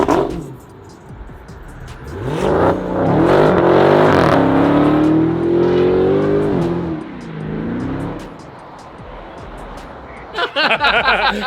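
A classic Buick Grand National's engine rises loudly as the car accelerates, the pitch climbing and holding for several seconds before easing off, with a brief burst of clatter near the end.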